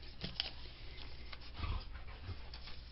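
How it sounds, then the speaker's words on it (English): Two dogs tussle somewhere in the background of a quiet room, producing faint panting, whimpers and scuffling bursts that come and go. "My dogs are fighting in the background."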